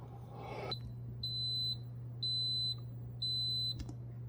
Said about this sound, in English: so it does beep at you when it's done.